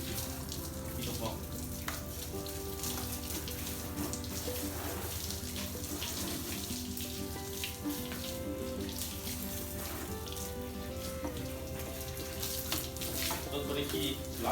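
Water runs steadily from a tap during washing, a continuous even splashing hiss at moderate level, with a faint tonal hum underneath.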